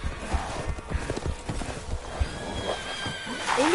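Steady clip-clop of horse hooves trotting at a regular rhythm in Resident Evil Village, with a horse whinnying near the end over a faint background hum.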